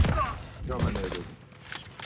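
A burst of rapid gunfire in Warzone rattles under overlapping speech, with a dense flurry of shots at the start and a few scattered pops near the end.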